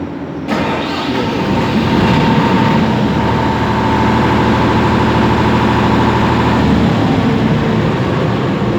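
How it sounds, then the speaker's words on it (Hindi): A generator engine run by a DSE4520 start-delay controller fires up abruptly after a brief quiet moment and settles into a loud, steady, close running drone. "और अब ये देखें, ये हमारा इंजन फ़ौरन स्टार्ट हो जाएगा।"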